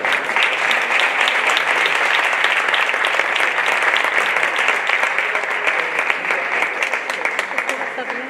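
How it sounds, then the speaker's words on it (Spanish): An audience applauds the presenter Juan Ortega at a saeta evening at the Real Círculo de la Amistad in Córdoba, with dense, steady clapping filling the hall and holding loud and even throughout. "os pido un aplauso para él"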